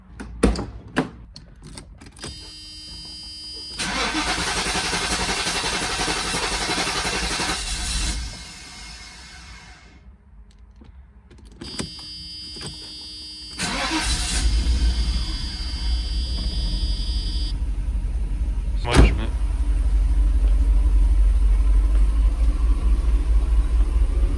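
A car engine revs and holds high RPM close to the tailpipe during a Sea Foam treatment, with loud sustained roaring bursts broken by a quieter gap, clicking noises at the start and a louder deep rumble toward the end.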